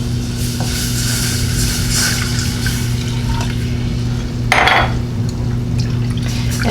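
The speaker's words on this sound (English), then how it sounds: "And then we're going to add 2 cups of milk." Milk poured into a flour roux in a pan gives a short splashing pour near the end, over a steady background hum.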